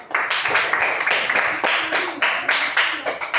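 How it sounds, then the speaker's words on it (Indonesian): A primary school class claps together in a classroom, several sharp bursts of group clapping in a quick rhythmic pattern, loud and close, repeating across the stretch. "Beri tepuk tangan sekali lagi untuk kelas 4B dan kita semua, yuk."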